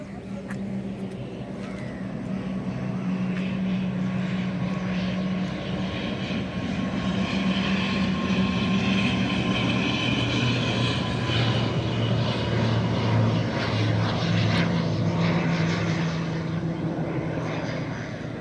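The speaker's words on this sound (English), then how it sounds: "Landing of the aircraft." An aircraft comes in to land at Kozhikode Airport at sunrise, its engine drone swelling and holding as a loud, continuous roar heard from nearby.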